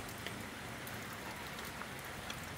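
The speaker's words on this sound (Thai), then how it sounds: "ตอนนี้ฝนก็ยังต่อเนื่องนะครับเนี่ยดูละอองฝนนะครับ" A night rainstorm pours over a rice field in Thailand, a steady, dense hiss of heavy rain hitting surfaces with scattered nearby drops standing out, unbroken and with no voices.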